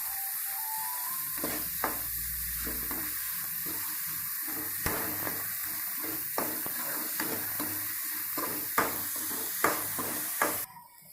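Onions and tomatoes frying with rock salt for a Tamil crab gravy, a steady sizzle broken by repeated sharp scrapes and clinks of a spoon stirring the pan, close and fairly loud with no talk.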